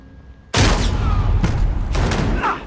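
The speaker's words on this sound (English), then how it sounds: "Dude, this shotgun." A loud shotgun blast goes off in Modern Warfare gun game, an abrupt close boom followed by more rapid shots and heavy rumbling that continue for a couple of seconds.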